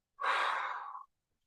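One long, smooth breath during a stress-relief breathing exercise, a close, clear airy rush lasting under a second, alone in silence.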